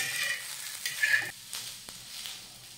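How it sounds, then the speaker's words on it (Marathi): Onion, ginger and garlic cloves frying in a pan, giving a quiet hissing sizzle with a few brief stirring scrapes and a light tap, close and fairly faint. "कांदा, आलं आणि लसूण आपल्याला साधारण 5 ते 6 मिनिटं व्यवस्थित भाजून घ्यायचे"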